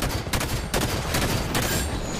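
Rapid bursts of video game gunfire crackle through the whole moment, dense overlapping shots in a tunnel fight with a soldier guard, loud and continuous without any talk.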